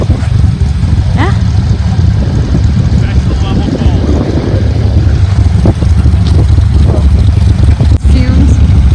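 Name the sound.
Corvette engine with quad exhausts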